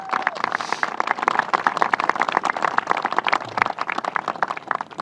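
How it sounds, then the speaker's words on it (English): An audience applauds at a Governor Cuomo event on the red flag bill, with many hands giving brisk, steady clapping for about five seconds at a fairly even level. "Let's give her a round of applause, Randy Weingarten"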